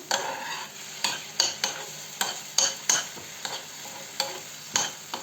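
Tomato paste frying and sizzling in a pan, with a spoon scraping and stirring in repeated strokes, fairly close.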